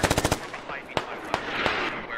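Automatic gunfire in the Squad video game during a one-life operation, a rapid burst of about six loud shots up front followed by a few scattered single cracks echoing across a street, with voices talking softly underneath.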